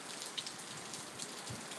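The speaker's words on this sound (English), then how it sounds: "See, the rain's coming down." Heavy rain pours down outdoors, heard from under a shelter, as a steady, dense hiss of drops that stays loud and constant throughout.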